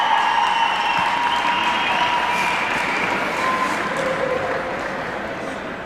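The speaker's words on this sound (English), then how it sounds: "let's give a big round of applause to the players in tonight's game" A crowd gives a sustained round of applause for the players at a Super League game, with dense clapping that holds steady and then gradually fades toward the end.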